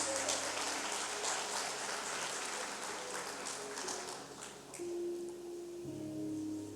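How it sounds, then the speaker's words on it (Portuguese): A church congregation claps steadily in a dense wash of applause, with a voice talking faintly underneath toward the end. "Você pode aplaudir Jesus?"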